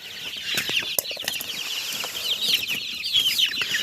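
Chickens being fed in an outdoor run squawk and cluck loudly and continuously, with a shrill chorus of overlapping calls and a few wing flaps close by.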